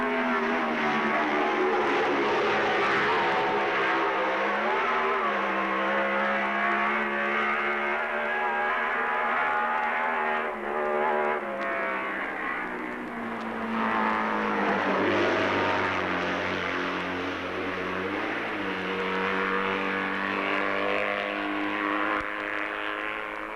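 Classic racing motorcycles roar past at the 1978 Isle of Man TT, a continuous loud engine drone that swells and fades slightly as the machines go by.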